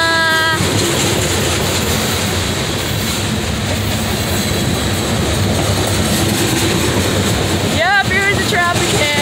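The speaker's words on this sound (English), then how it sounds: "Oh, I see a boxcar! I see a boxcar!" Freight train with boxcars rolls past steadily and loudly up close, with continuous rumbling and clickety-clack from the wheels on the rails, and a few brief squeals near the end.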